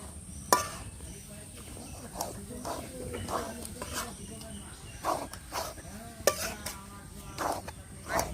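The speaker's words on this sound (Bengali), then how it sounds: "এই সময় ঘন ঘন নাড়তে হবে না হলে নিচে লেগে যাবে" Semolina and flour stirred in a pan while making sujir luchi, with scraping and clinking of a utensil against the pan repeated at an irregular pace, close by, while a person talks.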